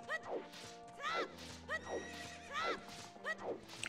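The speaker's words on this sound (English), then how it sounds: "Why are the horses so upset?" Horses in a video game neighing repeatedly, several loud, agitated whinnies in quick succession with thuds between them, close and alone without talk.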